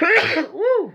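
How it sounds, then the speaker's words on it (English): A single close, loud human sneeze with a sharp burst, followed by a short rising-and-falling vocal exclamation from the same person. "I am gonna sneeze."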